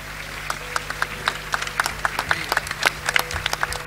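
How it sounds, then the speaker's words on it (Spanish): Scattered, sparse clapping from an audience at an outdoor folklore festival in Carrizal de Ingenio, a thin handful of claps with a low steady hum beneath. "Y también a ustedes por esta buena acogida y esos aplausos."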